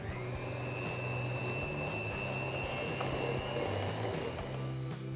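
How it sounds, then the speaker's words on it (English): An electric whisk beating butter and condensed milk for kesar pista muffin frosting, a steady close whirring motor drone with slight shifts in pitch throughout. "now I'm going to use an electric whisk to mix this together till it's nice and fluffy"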